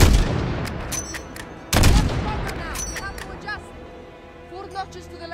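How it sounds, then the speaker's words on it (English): Gunfire in the Call of Duty: Modern Warfare video game, sharp loud shots with a heavy burst near the two-second mark, followed by scattered fainter reports and game sounds under spoken dialogue. "Those shots came from the highway!"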